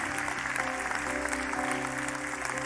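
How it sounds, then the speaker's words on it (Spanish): Church congregation clapping at a worship service, a dense, steady wash of many hands applauding together from across the room. "Dele un aplauso al rey"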